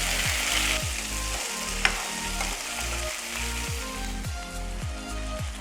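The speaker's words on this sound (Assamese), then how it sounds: "তাতে এতিয়া মই বিলাহীকণ দি দিছোঁ আৰু অলপ লৰাই দিম ভালদৰে" Tomatoes frying and sizzling in a pan for rajma, stirred with a steady rhythmic scrape over a loud, continuous crackle, with one brief sharp knock against the pan partway through.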